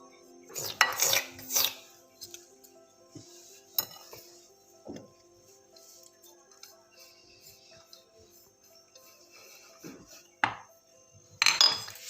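Cocoa powder being stirred into chocolate pancake batter in a bowl, giving a few sharp clinks and scrapes of a utensil against the dish, loudest near the start and end with quieter stirring between.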